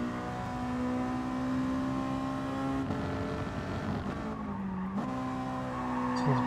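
A race car in GT Sport braking into a corner: a steady engine drone drops in pitch as it slows, then picks up again, loud and continuous with no talking.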